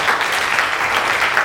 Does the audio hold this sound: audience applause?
yes